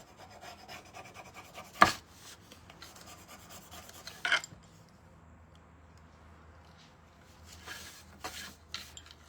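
A stencil transfer being rubbed down onto a coaster, soft scraping and rubbing strokes at low level with a few sharper scratchy bursts spaced across the stretch.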